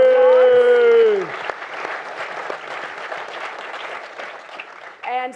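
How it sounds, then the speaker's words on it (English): A lecture audience gives a moderate round of applause after a drawn-out spoken introduction ends, the clapping steady and fairly soft before a voice cuts back in at the close. "Round of applause."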